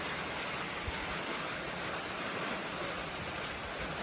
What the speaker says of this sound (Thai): พี่น้องนี่เห็นบ่เสียงฝนตก